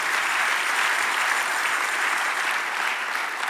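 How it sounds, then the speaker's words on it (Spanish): A church congregation claps together in loud, steady, sustained applause, a dense even wash of many hands filling the whole stretch without pause. "dale un aplauso grande"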